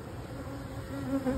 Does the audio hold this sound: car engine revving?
no